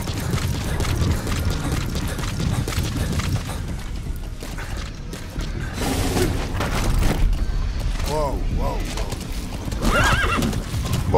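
A horse in the video game Metal Gear Solid V gallops with steady clip-clop hoofbeats and lets out several loud whinnies and neighs, with game rumbles and booms underneath and no talking.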